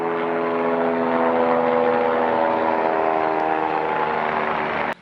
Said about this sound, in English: Things like helicopters flying over.